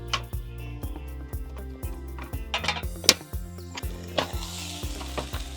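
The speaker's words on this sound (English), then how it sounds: "Oh, we do like a bit of sizzle sound" Vegetables sizzle and crackle in a hot Ridgemonkey pan outdoors, close and loud, with repeated sharp clinks and scrapes of a utensil stirring against the metal.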